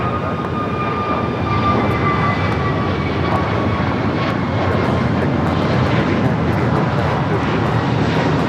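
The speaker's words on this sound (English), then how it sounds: "This is American Airlines 2284 going to Miami on Airbus A321neo." American Airlines Airbus A321neo jet at LAX, a constant dense engine roar with a thin high whine held throughout, fairly close and loud, with a faint voice at times.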